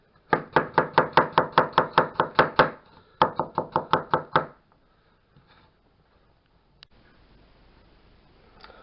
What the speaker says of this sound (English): And then it is simple as slice away.